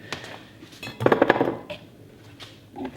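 Two-part silicone mix being stirred for a mold in a container, giving a loud cluster of clinking, scraping knocks around the middle and lighter taps before and after.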